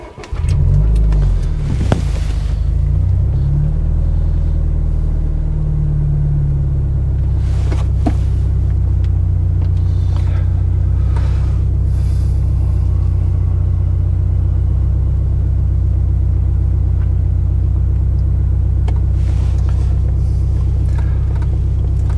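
A Subaru Impreza GR engine with a stumble cranks and catches, briefly revving before settling into a steady, low rumbling idle that continues throughout.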